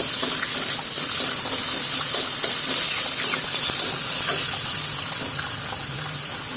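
Banana flower curry frying in a pan with turmeric powder, ginger paste and green chilli, giving a steady, close, bright sizzling hiss that holds for the whole stretch and eases slightly near the end, with no voices.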